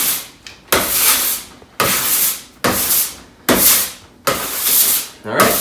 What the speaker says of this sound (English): I'm just going to scrape off anything extra that didn't get worked into the dough